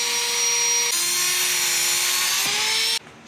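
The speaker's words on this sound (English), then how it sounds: "Just using a cutoff wheel." A cutoff wheel slices through the frame rails of an SCX24 RC crawler, a loud, steady high-pitched grinding whine that shifts pitch twice, then cuts out abruptly near the end.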